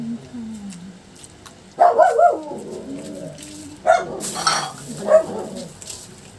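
A dog barks in three separate bursts of short, sharp woofs, fairly close, with quiet pauses between them.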